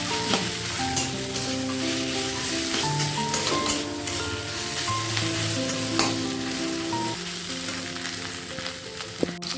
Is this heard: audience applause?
no